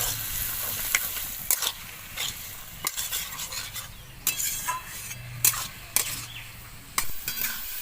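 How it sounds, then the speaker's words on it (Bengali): Fried potatoes are turned over and over with masala spices in a hot pan, with close, irregular scraping and clinking strokes of the spatula over a low, continuous sizzle. "তো আলুটা দেওয়ার পরে আমি খানিকক্ষণ নাড়াচাড়া করব মশলার সাথে।"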